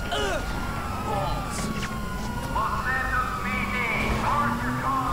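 A wailing police car siren in the GTA 5 video game sweeps up and down through overlapping tones, loud and continuous, mixed with game traffic noise and people talking over it.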